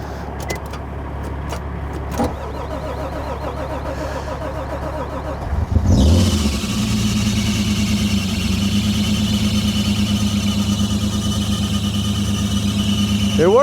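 A car's engine, unused for about two years and fitted with a new battery, cranks briefly and catches, then settles into a steady loud idle after several seconds of near quiet with small clicks.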